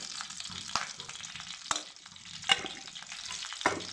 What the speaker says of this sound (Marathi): आता मी यामध्ये टाकणार आहे तूप तर आपल्याला रवा भाजून घ्यायचा आहे